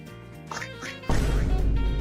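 A Gorilla Tag VR player imitates walking with his voice: a few short vocal squawks, then a sudden loud, noisy thudding burst that continues to the end.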